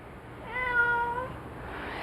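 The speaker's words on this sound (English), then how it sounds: "She is a calico tabby." A calico tabby cat gives a single clear, drawn-out meow at close range, rising and falling over about a second against a quiet room hum, with no talk.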